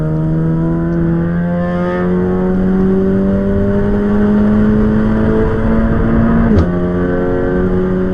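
A race car engine in the Assetto Corsa Evo racing game drones loud and steady, pitch rising slowly through the revs, with one brief gear-change blip near the end and no talk.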